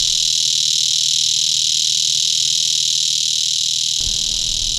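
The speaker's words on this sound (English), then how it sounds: "listening to the prairie cicada song in midsummer" Prairie cicadas sing in midsummer on a native prairie remnant, a loud, continuous high buzzing drone that holds steady throughout, with a low rumble joining near the end.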